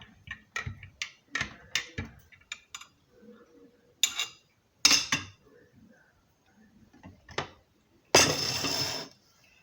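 A spoon stirring powdered milk into warm water in a cup, making a series of sharp metallic clinks and taps against the sides, irregular and close, with quiet pauses between.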